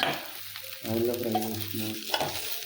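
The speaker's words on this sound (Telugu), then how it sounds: "ఆయిల్తోని ఫ్రై చేసుకుంటున్నాను అనమాట." Food deep frying in oil while making chips with an omelet, a close bubbling sizzle with soft stirring clicks and a brief tonal hum partway through.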